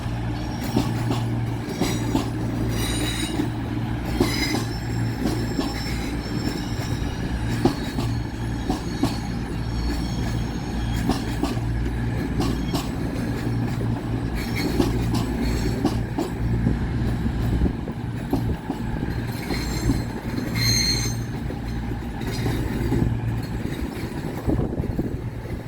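Cross-country Class 220 Voyager units 220032 and 220031, a service from Bournemouth, arrive to terminate at Manchester Piccadilly station, with a steady loud diesel rumble, rolling wheel noise and intermittent squeals throughout.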